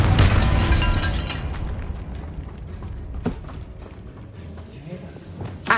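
A Confringo blasting curse goes off in Hogwarts Legacy, a loud booming explosion at the start that rumbles and decays, followed by scattered debris pops and thuds.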